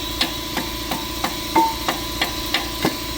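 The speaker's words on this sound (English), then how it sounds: "You shouldn't really hammer it out." Metal hammer blows strike a brake caliper on a 2012 Honda Ridgeline at a steady pace, about ten sharp knocks with a ringing clank, close by and with no voices.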